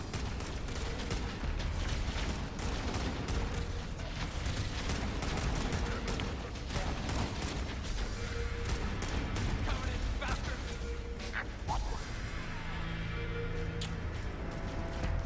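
Heavy gunfire and explosions rage through a Halo: Campaign Evolved battle aboard the Pillar of Autumn, dense and continuous, with voices talking over the din.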